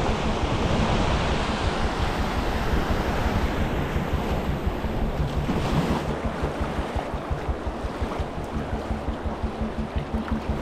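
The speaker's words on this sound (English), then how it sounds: "here's the first set of rapids" River rapids on the Yukon River roar loudly and steadily, a dense continuous wash of rushing water close by, with a rhythmic pulsing toward the end and no voices.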